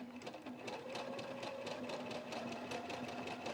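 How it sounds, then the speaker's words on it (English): A sewing machine runs a steady, rapid stitch along a folded fabric edge, its motor humming under an even needle rhythm, close and unbroken, with no talking. "I'm going to butt the edge of the fabric up to the edge of the presser foot"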